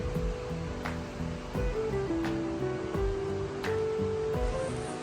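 A mountain waterfall and stream at a campsite in Gunma, Japan, roar as a steady, dense wash of water, with sustained musical tones over it and a few soft clicks.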